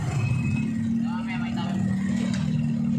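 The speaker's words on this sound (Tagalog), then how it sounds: "Traffic din pala dito." Steady road traffic on a San Vicente shortcut, a continuous low engine drone from nearby vehicles with a faint rise of acceleration, under constant talk.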